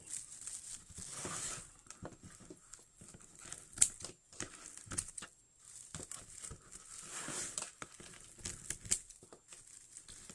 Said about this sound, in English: Right now, I'm just trimming off the excess tails from the outside of the board so they're not sticking out.